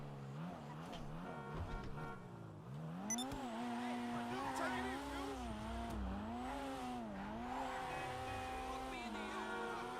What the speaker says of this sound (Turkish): Arabamıza full gaz basacağız.